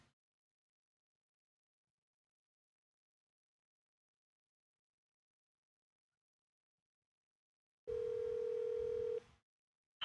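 A telephone dial tone sounds as a steady, clear electronic hum for about a second and a half after long silence, then stops abruptly.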